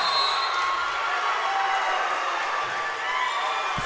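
Basketball crowd and student section roar after a blocked shot in a high school boys' game, a loud, steady wash of cheering and shouting that fills the gym without a break.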